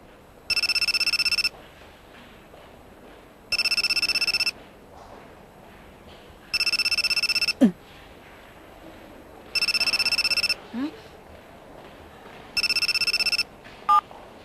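A phone rings in five evenly spaced electronic bursts, loud and close, with quiet room noise and a couple of small clicks between rings.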